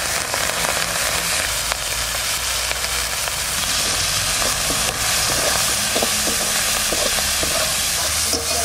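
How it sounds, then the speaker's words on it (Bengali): Prawns fry in leftover oil in a wok, giving a steady, loud sizzling hiss that runs unbroken throughout with no talking. "এই তেলের মধ্যেই আমি চিংড়ি মাছগুলো ভেজে নেব"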